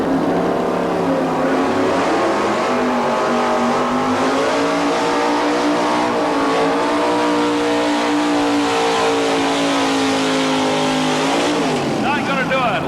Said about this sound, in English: These 4x4s really dig in and pull for all they're worth.